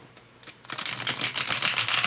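Thin, tarot-sized I Ching divination cards being riffle shuffled: a few soft ticks, then a rapid dense flutter of cards snapping together, close and crisp.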